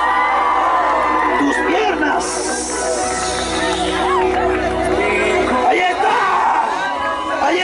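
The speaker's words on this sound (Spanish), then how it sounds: "¿Cuántos dan gritos de júbilo?" A church crowd at a night healing service in Nandaime shouts and cheers with joy, loud whoops and cries layered over each other, while a voice calls out over them.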